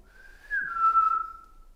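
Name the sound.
vet's whistle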